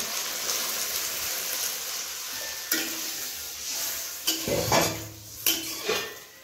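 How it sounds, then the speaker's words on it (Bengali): A metal lid clanks onto a cooking pot of simmering fish curry, with scattered metallic knocks and scrapes over a soft background hiss. "আমি ঢাকনা চাপা দিয়ে দিচ্ছি।"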